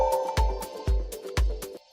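An Omnisphere synth pluck melody, every note pitched up a perfect fifth, plays a few bright, dreamy notes over steady deep kick hits, close and clear, ending abruptly after about two seconds.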